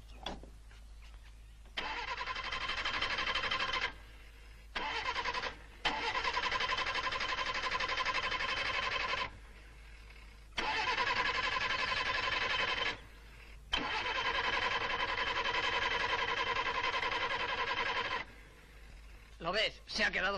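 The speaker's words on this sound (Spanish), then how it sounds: "Dale a la puesta en marcha." An engine on a 1970s car is cranked in long repeated bursts, each churning for several seconds with short pauses between, and none settles into a steady idle. Voices can be heard at the end.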